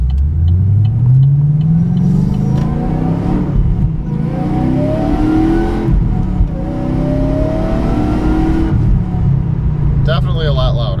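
A car engine with its intake cover removed accelerates hard, loud and close from inside the cabin, its pitch climbing in repeated sweeps as it revs through gears, with a brief sharp burst near the end and talk over part of it.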